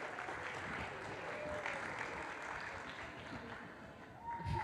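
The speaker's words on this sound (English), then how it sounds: "Let's give a round of applause, guys." Conference audience applauds as a session moderator takes the stage, a dense, even patter of clapping from a room, fairly soft and continuous with no talk over it.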